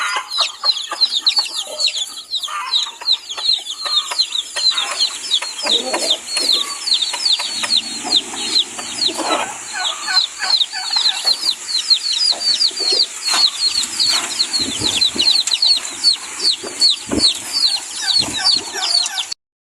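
A flock of month-old chicks peeps and clucks continuously at close range, with dense overlapping high chirps and occasional soft wing flutters throughout.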